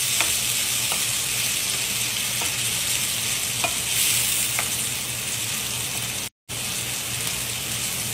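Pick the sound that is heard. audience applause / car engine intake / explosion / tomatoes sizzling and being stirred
tomatoes sizzling and being stirred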